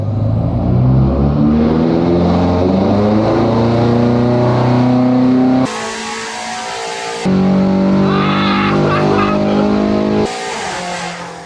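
A tuned BMW M5 Competition with its OPF filters removed runs loud and close, its engine droning and revving steadily, then dropping in short, sharp cuts before roaring back.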